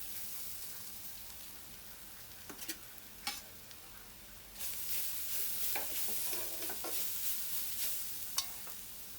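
Onions and spice paste fry in a pan, a quiet sizzle that swells louder partway through, with scattered sharp clinks and scrapes of stirring.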